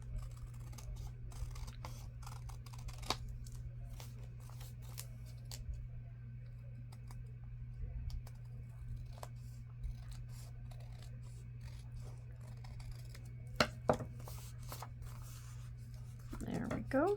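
Scissors cutting through a paper envelope while making tags, with sparse quiet snips and scrapes spread over a long, hushed stretch and a couple of sharper cuts near the end.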